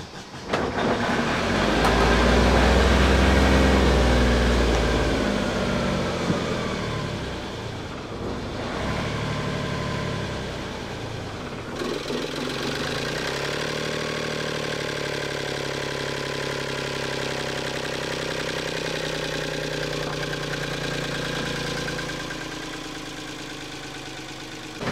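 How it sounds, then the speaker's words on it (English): A Freedom 35 cat ketch sailboat's engine cranks and catches with a loud low rumble, then settles into a steady, even idle that runs on throughout. "We'll start her up."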